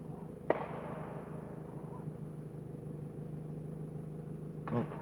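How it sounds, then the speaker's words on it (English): Two faint, distant shotgun blasts from clay pigeon or pheasant shooting, one early and one near the end, each a sharp crack over a quiet outdoor rumble. "Can you hear the gunfire?"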